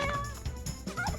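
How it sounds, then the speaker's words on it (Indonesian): A turkey gobbles from a bamboo grove, several quick warbling bursts in a row, fairly close and clear with no talk over it. "Sepertinya ada suara si kalkun dari arah kebun bambu."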